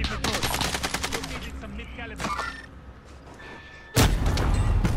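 Automatic gunfire in a battle royale shooter rattles in a rapid burst, followed by mechanical clatter and a quieter lull, then another loud close blast near the end.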